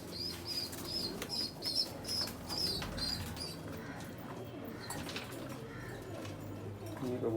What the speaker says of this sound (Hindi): ये कबूतर अपने बच्चे को फीड करवा रहा है।